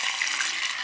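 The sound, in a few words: pouring soy sauce into a pan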